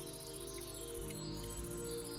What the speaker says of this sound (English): You can have all of the bugs. I don't want crickets.